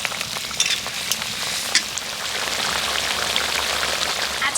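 Egg and potato curry bubbles and simmers in its gravy in a pan, a dense close crackling sizzle with a few clinks and scrapes of stirring, no voices.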